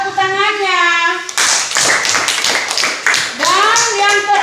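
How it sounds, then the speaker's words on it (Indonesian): Children in a classroom clap their hands together in a burst of rhythmic, close claps lasting a few seconds, framed by a child's sung or drawn-out voice before and after. "Mana tepuk tangannya?"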